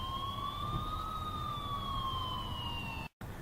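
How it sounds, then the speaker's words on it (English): Police siren wailing from a distance, a single steady rising-and-falling tone carried over a low rumble of background noise, with a brief dropout near the end. "That's until I finally heard sirens in the distance."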